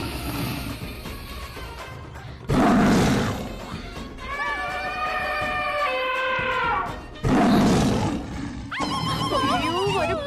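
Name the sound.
people imitating animal roars, like lions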